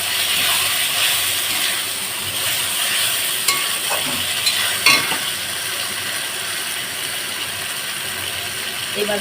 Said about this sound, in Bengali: আবারও আমি এইভাবে কষাতে থাকছি